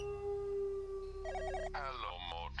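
A telephone rings: a long steady electronic tone followed by bursts of warbling ringtone pulses, moderately faint, with low background music underneath.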